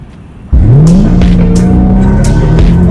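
A Dodge Challenger 392 in the Roblox Jailbreak video game suddenly roars to life with a loud engine rising in pitch and holding, with tire spinning and squeal over the sustained revving.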